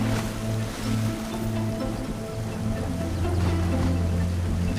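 A herd of hundreds of wildebeest crossing a river on the Great Migration, a steady rushing wash of splashing water under a low engine-like drone, continuous and fairly loud throughout.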